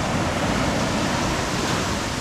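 Sea waves roll in strong current where anchovy nets are worked offshore, a loud, unbroken wash of surf that fills the moment with no speech.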